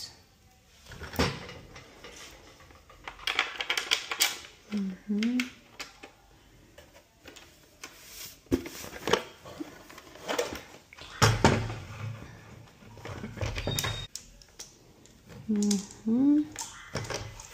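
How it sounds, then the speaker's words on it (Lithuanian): Bolts being pushed into a wall and washers fitted during wall mounting by feel, giving scattered close metallic clicks, scrapes and knocks at irregular intervals with brief pauses between handling sounds. "Po truputį įkištos varžtus. Galima uždėti poveržles."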